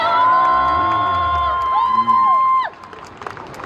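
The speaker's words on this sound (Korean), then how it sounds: "박수 한번 주세요." Concert crowd at an outdoor Everland garden show cheering and shouting for band member, the bass player, with loud sustained high whoops and screams that cut off sharply, leaving scattered claps and murmur.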